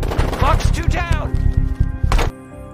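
Rapid bursts of gunfire from a film shootout with German police, loud and close, a dense volley of shots with people shouting over it before it cuts to quiet.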